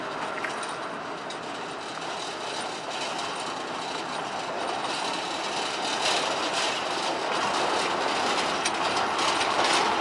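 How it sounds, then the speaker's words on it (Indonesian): Three locomotives, two Japanese-built Hokuriku units and a local Indonesian one, passing in line on the Semboro sugar mill railway, with steady wheel rumble, rhythmic clickety-clack and squealing wheels, growing slightly louder. "Dalam satu jalur langsung ada 3 lokomotif yang lewat."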